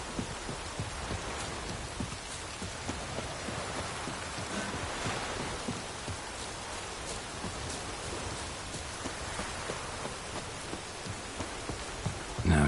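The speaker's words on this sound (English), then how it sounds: "Rain again." Rain falls in the video game The Witcher 3, a constant loud hiss of drops on the ground that stays even from start to finish with no voices.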